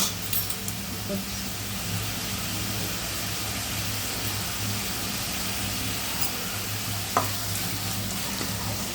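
Tomatoes, green chillies and onions sauté in a pan for sambar made without lentils, a steady soft sizzle with occasional stirring clinks close by.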